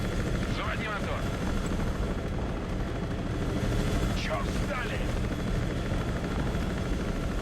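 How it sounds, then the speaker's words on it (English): Mi-24 Hind helicopters in the Broken Arrow video game: a constant dense rotor and engine roar with battle rumble underneath, plus a couple of brief whooshing passes, loud throughout. "Let's bring our Hinds down to see some action."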